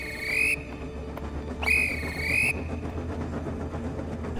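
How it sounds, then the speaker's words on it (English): Steam engine whistle sounding a warning in a children's railway story, two shrill bursts of about half a second and a second, loud and close over a low steady rumble, without talk. "Whiff gave the whistle of warning."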